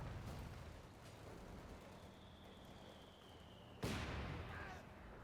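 Delayed-fuse high-explosive mortar shells from a half-track in a war video game, a low rumbling backdrop of distant blasts capped by one sharp, loud explosion near the end.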